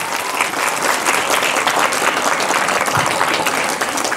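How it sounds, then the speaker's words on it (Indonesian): Sustained audience applause in an Indonesian madrasah hall during a haflatul ikhtibar student exam celebration, a dense, steady roar of many hands clapping close and loud for the full stretch. "Yuk berikan tepuk tangan untuk madrasah tercinta ini."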